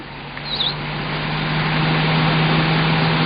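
A newspaper delivery lorry speeds past, its engine noise building from a low rumble to a steady, louder roar with a constant hum underneath, and a brief chirp early on.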